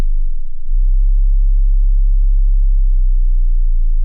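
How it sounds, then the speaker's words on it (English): A deep, resonant bass tone from a Cherry Audio Octave CAT synthesizer opens with a brief click and then holds as a loud, steady low rumble with little movement for about four seconds, with no voices. "listen to how deep this goes as well"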